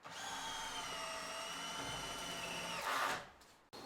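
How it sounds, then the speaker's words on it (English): Cordless power drill whines steadily while driving long 150mm screws into roof timbers, a sustained close motor tone that surges and then stops, followed by a brief knock. "what I've got is some of these nice long 150mm screws, so I can get on a step stool and drive these in"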